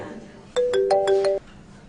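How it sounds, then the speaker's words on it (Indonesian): A short electronic phone ringtone plays a bright melodic phrase of about five quick rising notes, clear and close, then stops abruptly. "aku ada telepon"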